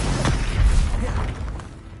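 Expelliarmus spell cast in the video game Hogwarts Legacy, a brief booming magical burst with a rumbling low thump that fades over about two seconds.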